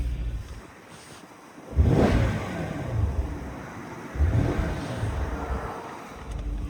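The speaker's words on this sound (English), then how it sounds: "Your throttle response is right on the money." Mercedes-Benz SL 550 roadster V8 revved twice in quick throttle blips, each rising sharply and then settling back toward a steady idle, with wind noise across the microphone.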